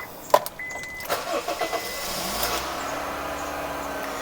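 A Honda Freed car engine starting up: a few clicks and a brief cranking whir, then the engine catches and settles into a steady, even idle close by.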